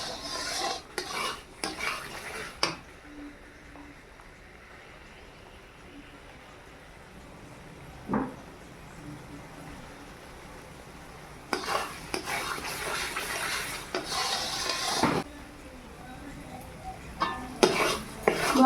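Spices fry in oil in a wok (kadai) on a gas stove for a red chicken kosha, with repeated metal scraping and stirring bursts over a low, steady sizzle, close by.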